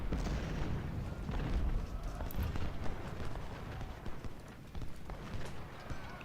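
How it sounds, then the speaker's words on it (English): Canister artillery fire in the Civil War strategy game Ultimate General: Civil War, during the Battle of Harpers Ferry: dense, crackling volleys with low booms, fairly faint and continuous, mixed with rapid clattering battle noise. "Ooh, canister fire."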